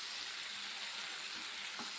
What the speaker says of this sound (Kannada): ಇವಾಗ ಇದ್ರ ಜೊತೆ ಮಿಕ್ಸ್ ಮಾಡ್ಕೊಬೇಕು ಚೆನ್ನಾಗಿ.